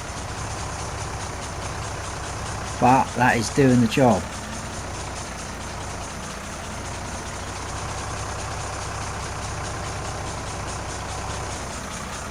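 A video game tractor engine drones throughout at a constant idle-like rumble, with a short burst of a man's speech partway through.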